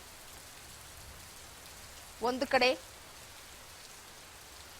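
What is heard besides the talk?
rain falling in Bengaluru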